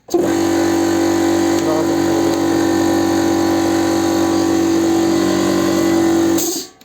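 A Forte 50-litre air compressor motor runs with a loud, steady, close-up electric hum and buzz. It holds an even drone for several seconds, then cuts off abruptly near the end.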